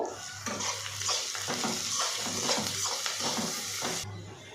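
Curry leaves and dried red chillies stir-fried in a pan, a steady loud sizzle with repeated scraping strokes of a spoon against the metal, ending abruptly near the close with no voices.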